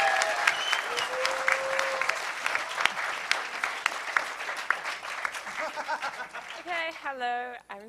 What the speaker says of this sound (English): Let's give a huge round of applause for the Meta Lab for getting that going.